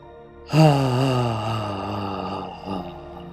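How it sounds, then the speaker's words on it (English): A single long, deep, voiced exhale rises at once and then slowly fades over a few seconds. It comes during a guided somatic breathing exercise for grief relief. A faint second breath follows near the end. "Deeply breathing and exhaling out."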